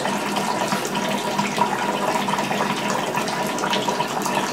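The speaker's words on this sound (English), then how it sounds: "So now the water can drain right down the tub." Water runs and gurgles steadily down a tub drain, a continuous close splashing rush with no talking.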